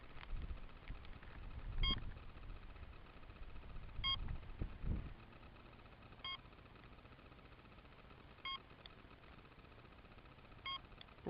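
Short electronic beeps from a Phoenix X RC flying wing, repeating at a steady rhythm about every two seconds over a low motor hum, with some outdoor rustle and bumps near the start.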